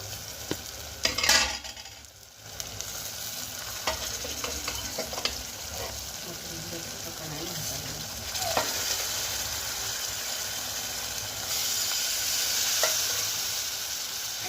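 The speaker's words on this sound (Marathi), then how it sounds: "आता इथे मी हळद मीठ टाकून शिजवून घेतलेलं मटण याच्यामध्ये ॲड करते" Cooked mutton, first boiled with turmeric and salt, goes into hot sizzling masala in a pan and is stirred, giving a loud continuous fry and hiss with scraping strokes and a few clinks, close and with no voice.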